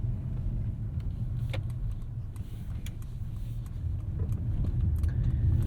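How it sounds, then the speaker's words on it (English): A 2022 Mercedes-Benz C 300 running in Eco mode rolls slowly toward the highway, giving a steady low engine and road rumble heard from inside the cabin with faint small rattles, and nobody speaking. "I'm going to drive nice and slowly until I get there"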